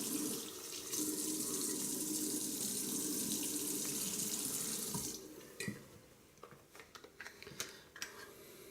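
Cold water runs steadily from a bathroom tap during a wet shave, a loud continuous rush that stops after about five seconds, followed by faint splashes and drips as the face is wetted.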